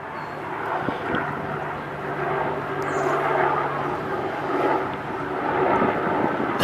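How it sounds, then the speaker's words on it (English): A steady, broad engine roar of a helicopter passing overhead, loud and sustained throughout, with no voices. "The helicopters!"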